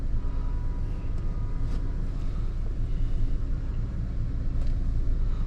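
A 2004 Jeep Liberty engine idles with a steady low rumble and slight throb, close by, with a few faint clicks and no speech.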